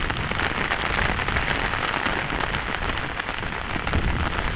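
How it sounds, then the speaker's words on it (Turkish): Heavy, intensifying downpour striking surfaces and an umbrella, a dense, continuous hiss of rain with no break, fairly close and steady throughout. "Yani yağmur şiddetlenirken. Şu anda daha da şiddetleniyor."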